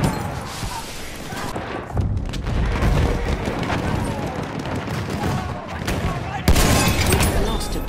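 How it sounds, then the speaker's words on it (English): Battlefield 1 combat with a thudding grenade blast and bursts of gunfire, dense and continuous, with a heavy boom near the end; voices are mixed into the din. "Grenade out!"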